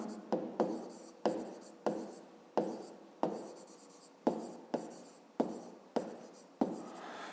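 Pen or pencil writing on paper while working a 5th-grade math exercise: a series of about a dozen short, scratchy strokes in an uneven rhythm, close and fairly quiet, with no talking.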